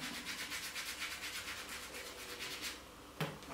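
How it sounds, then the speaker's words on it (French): A piston fire lighter's rubber seals being gently sanded by hand, giving a steady, rhythmic scratchy rubbing close up and moderately quiet, with a single brief sharp tick near the end. "Donc on ponce les joints"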